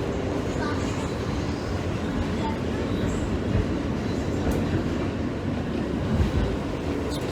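Steady rumble and clatter of a subway car in motion, wheels rolling continuously with a few faint squeaks, loud and close throughout.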